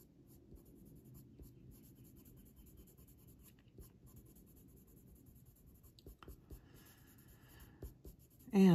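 Black colored pencil scratches steadily across drafting film while shading a leopard drawing with Luminance and Polychromos pencils, a close, continuous rasping of short strokes that ends in a sudden loud knock.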